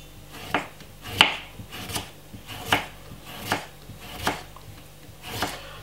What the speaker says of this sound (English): Now we're gonna slice some cucumber.